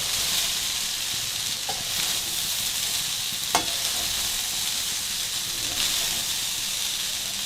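Fried brown rice with vegetables hisses and sizzles in a hot pan, with a couple of soft scraping clatters as it is tossed, a steady close frying noise throughout.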